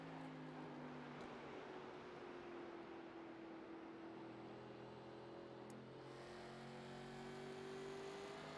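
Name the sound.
NASCAR stock car engines racing in iRacing video game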